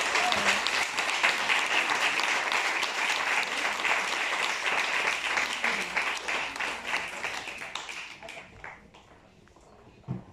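An audience applauds at a French event, a thick burst of clapping that holds strong, then thins and fades toward silence near the end, with a few last scattered claps.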